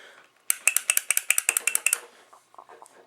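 A rapid burst of sharp mechanical impacts, about a dozen evenly spaced hammering clicks from a Mastercraft corded electric impact driver with a cord fault, lasting a second and a half, then quiet rattling.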